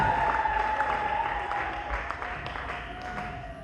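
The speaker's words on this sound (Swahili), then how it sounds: "Piga kelele na vigelegele kwa Bwana." Church congregation cheering and ululating in praise during a worship service, a dense continuous crowd roar with a sustained high trilling ululation running through it, loud and steady throughout.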